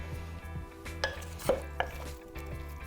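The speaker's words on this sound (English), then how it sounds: "Now I'm gonna stir this all together" A spoon stirs a beef and sweet potato stew in a crockpot, giving a few soft knocks and scrapes against the pot over a quiet, steady hum.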